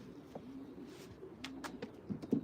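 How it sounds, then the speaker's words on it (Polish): A De Smet Matthys breed pigeon coos softly and close by, with a few brief low coo phrases and light rustling. "Jest to gołąbek czysty Desmet Matisse."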